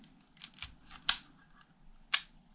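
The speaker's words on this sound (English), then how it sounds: "the shutter is working." An SLR film camera's shutter fires with two crisp, sharp clicks about a second apart, surrounded by softer mechanical handling clicks, close up and fairly quiet.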